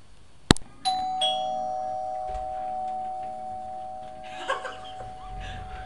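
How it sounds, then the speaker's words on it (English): Doorbell chime at the front door of a Strata Homes Siena show home in Mackworth, Derby: a sharp strike, then two clear ringing tones that sustain and fade over several seconds, with faint movement and murmur near the end. "Just sort of ring the bell there."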